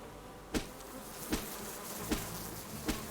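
Bees buzzing around a beehive in the video game Subsistence make a continuous insect drone, punctuated by four evenly spaced sharp thumps roughly every three quarters of a second.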